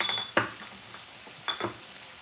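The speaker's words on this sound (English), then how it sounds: "we're gonna be adding the water chestnut that I halved and the coleslaw mix" Halved water chestnuts and coleslaw mix hitting a hot shrimp pan, two brief clattering, sizzling bursts with a metallic clink, close and separated by a quiet pause.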